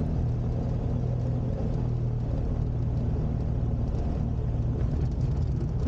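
Light aircraft landing on a downhill field with two stages of flap down, a steady low engine rumble and drone holding close and even throughout.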